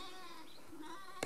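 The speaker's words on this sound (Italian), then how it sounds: "Per ora ci sono soltanto delle pecore" Sheep on a South African safari ground give a faint, wavering bleat, distant and soft against a steady outdoor background.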